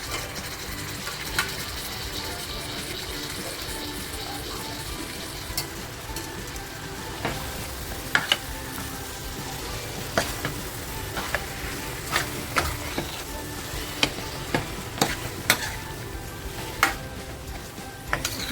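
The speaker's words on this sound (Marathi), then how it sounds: "मटण बघा हलकंसं फ्राय करून घेते" Mutton pieces fry and are stirred through masala for a dry mutton dish, giving a steady low sizzle broken by repeated scraping and clinking strokes of a spoon against the pan, close and moderately loud, with no talking.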